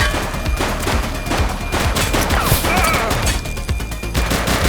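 Gunfire in the police video game The Precinct: rapid, dense volleys of loud shots and crashing impacts, continuous and close, filling the whole stretch.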